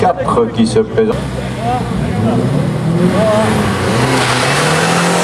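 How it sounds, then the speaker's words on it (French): A Renault 5 GT Turbo race car pulls away from the start line at a historic hill climb, its engine revving and then fading steadily into the distance while a commentator speaks over it. "La 5 GT Turbo est partie."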